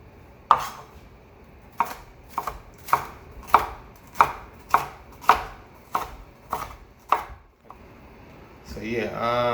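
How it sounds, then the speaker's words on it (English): A knife chops peppers on a cutting board for Jamaican seasoned rice with callaloo, about a dozen sharp, evenly spaced close knocks, then a voice starts speaking at the end. "peppers like that"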